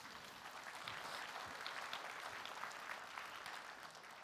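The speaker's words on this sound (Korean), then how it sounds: "박수 칠 타이밍이에요." A church congregation applauds during a Christmas service after a fundraising announcement. The clapping is faint and distant but dense and continuous, a soft, even wash of many hands that holds steady from start to finish.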